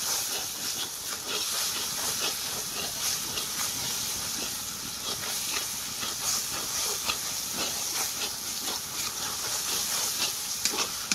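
Spice paste with turmeric frying for mutton curry, a steady loud hiss and crackle of oil close by, continuous throughout with faint stirring textures and no voices.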